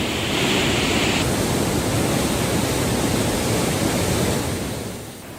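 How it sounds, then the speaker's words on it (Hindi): A swollen river in flood after heavy rain in rural Rajasthan gives a loud, steady roar of rushing water that fades slightly toward the end. "वहीं ग्रामीण इलाकों में क्षेत्र की सभी नदियां उफान पर है।"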